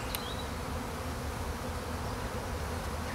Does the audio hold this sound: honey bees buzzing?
yes